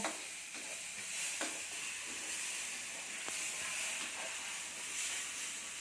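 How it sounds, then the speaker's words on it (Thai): Milk poured into a hot pan makes steady loud hissing and sizzling while making Indian semolina sweet, with faint scraping clicks every second or so, and no voices. "นมกำลังจะผสมกับแป้งแล้วนะครับ ลงไปแล้วครับ"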